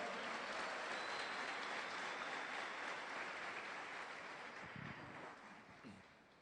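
Dense applause from a large church congregation, sustained and steady, then gradually fading toward the end.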